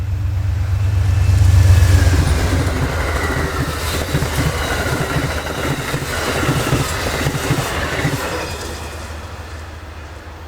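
Amtrak 43 passenger train rolls past at night, a loud broadband rumble with rail and wheel noise that swells early and holds steady through the pass, no talk over it.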